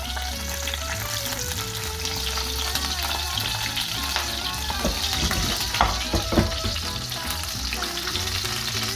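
Fish fries in a pan of olive oil sprinkled with sea salt, a dense, steady close-up sizzle with occasional light scrapes and taps from a utensil.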